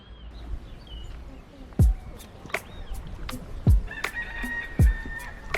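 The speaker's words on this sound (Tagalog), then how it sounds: "Uy, labuyo." Three loud rooster-like crows from wild junglefowl (labuyo) ring out in succession at the edge of a fishing outing, each a sharp rising call, with faint bird chirps and a sustained whistle-like tone in the background.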